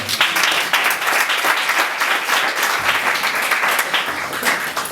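Congregation at a church wedding applauding steadily throughout, a dense, continuous wash of clapping with no talk.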